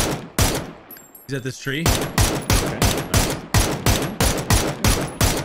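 Rapid gunfire in PUBG, a run of sharp, loud shots in a steady rhythm from close range, with a player's voice breaking in briefly between bursts.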